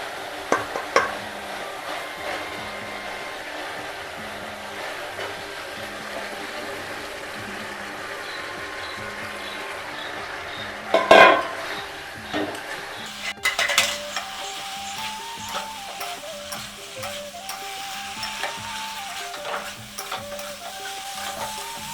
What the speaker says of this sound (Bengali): এবার আমি শাপলাগুলো দিয়ে দেবো।